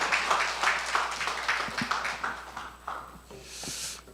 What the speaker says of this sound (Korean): 우리 목사님 나오시네요. 박수로 환영하겠습니다.